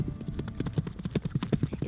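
Icelandic horse hooves clip-clopping in a quick, steady rhythm of evenly spaced footfalls at moderate distance, heard alone with no talk.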